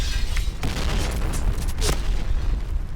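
A heavy grenade blast rumbles through dense game noise, with sharp bursts cracking out around the one- and two-second marks.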